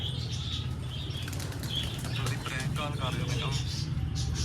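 A pigeon's wings flap in short fluttering bursts close by, held in a hand, with a steady low hum and some voices in the background.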